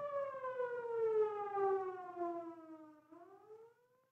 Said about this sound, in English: Always yield to emergency vehicles sounding their sirens or other signaling devices.